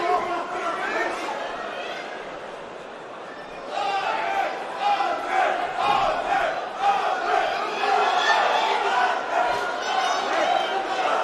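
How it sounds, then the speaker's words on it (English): Swedish fans at a Cage Warriors MMA event in Manchester chant loudly in unison, a dense crowd roar that briefly dips and then swells again, with a commentator talking over it. "the Swedish contingent making themselves heard here in Manchester"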